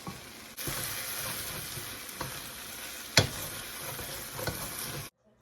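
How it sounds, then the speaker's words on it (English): Rice with garlic powder frying in a pan, giving a continuous close sizzle with light scraping stirs and one sharp clack partway through, then cutting off abruptly. "Just fry this up."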